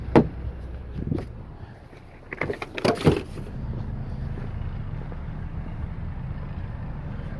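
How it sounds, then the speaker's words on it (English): A 2018-19 Chevrolet Equinox rear hatch opens with a few mechanical clunks and a latch release, then a quieter stretch of low whirring from the powered lift, heard fairly close without talk. "I'm going to go ahead and open up that hatch."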